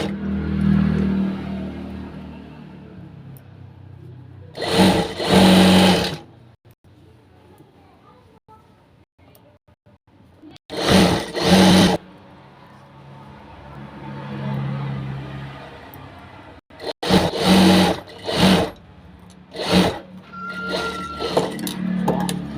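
A sewing machine stitches dori piping in several short motor-driven bursts, close and fairly loud, separated by stretches where a person talks.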